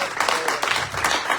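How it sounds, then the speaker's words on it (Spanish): A church congregation claps in a short, lively burst, many hands beating at once in a loose rhythm for just over a second. "Dele palmas al Señor."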